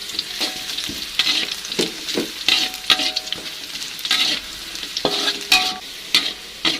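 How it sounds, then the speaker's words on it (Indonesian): Garlic, shallots and chilies stir-fried in a pan for an eggplant dish, with a steady loud sizzle and repeated scraping strokes of a spatula against the pan, no voices. "Kita tumis kembali sampai bumbunya matang."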